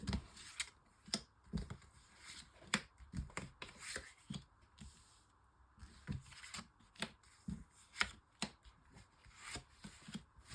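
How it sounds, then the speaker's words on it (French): Tarot cards are shuffled and drawn in a quiet room, giving soft, rapid riffling and flicking with sharp card snaps scattered throughout. "je vais faire un tirage en 6 cartes"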